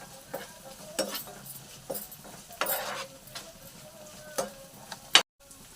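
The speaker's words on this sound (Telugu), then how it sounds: "ఇలా వేగిన ఉల్లిపాయల్లో 1 స్పూను అల్లం వెల్లుల్లిపాయ పేస్ట్ వేసి ఇది పచ్చివాసన పోయే వరకు వేయించుకుందాం" One spoon of ginger garlic paste fries with browned onions for a liver fry, with a soft sizzle under repeated spoon scrapes and taps against the pan.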